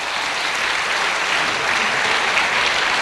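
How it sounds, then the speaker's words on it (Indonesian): Steady, dense audience applause at a university public lecture by Ganjar Pranowo, a continuous even wash of many hands clapping for three seconds. "Tepuk tangan untuk"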